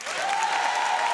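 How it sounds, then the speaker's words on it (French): Audience applause at a sung improv show at the Impro en Seine 2025 festival, as the crowd votes by clapping level for a performer; dense, steady clapping fills the short moment at an even, fairly loud level. "À l'applaudimètre pour déterminer qui sera la maestra de cette soirée"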